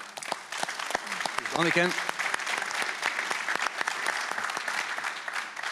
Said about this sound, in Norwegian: Vi gir Hans Christian en applaus på veien ut